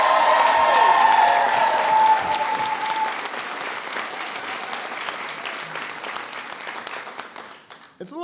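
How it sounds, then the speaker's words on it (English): Loud, sustained applause from an audience at the White House honoring the National Teacher of the Year, many hands clapping at once and slowly thinning toward the end, with some voices mixed in. "please give the National Teacher of the Year a big round of applause"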